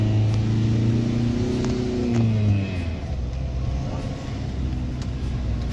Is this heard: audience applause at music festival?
no